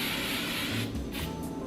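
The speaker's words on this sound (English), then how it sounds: "Like, little hairspray." Hairspray from an aerosol can hissing onto hair in a short, close, continuous burst, quiet and alone, lasting under two seconds.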